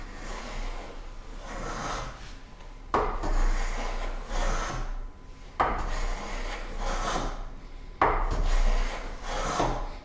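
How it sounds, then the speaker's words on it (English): A hand plane shaves the end of a wooden board in four long rasping strokes, each starting with a sharp bite and fading out, heard up close without speech. "I'm essentially just hand planing the ends"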